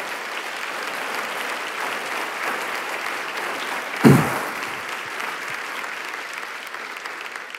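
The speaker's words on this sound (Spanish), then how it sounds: "¿Le puede dar un aplauso al Señor mientras yo tomo un poquito de agua?" A church congregation applauds the Lord during a sermon, a steady, fairly loud wash of clapping with a brief thump partway through.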